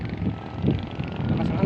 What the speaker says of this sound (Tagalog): Lakas ang hangin guys. So, sobrang lakas.